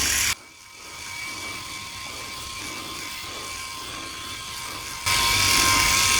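A Philips i9000 Prestige electric shaver runs steadily over a shaved head, a continuous close mechanical whirr with a faint rasp as the blades pass, no talking, and louder machine noise surging at the end.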